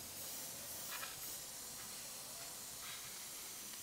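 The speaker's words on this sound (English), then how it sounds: "Just a little dry spray test. I'll see if I can get any dry spray." Airbrush spraying solvent-based paint in a dry spray test gives a steady, continuous airy hiss that runs unbroken throughout at moderate level.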